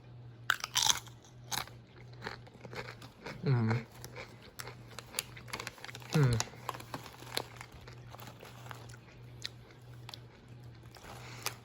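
A mild seasoned chip snapped and crunched up close, with crinkling of a snack bag and a couple of chewing bursts, mixed in with intermittent nearby talking over a low hum.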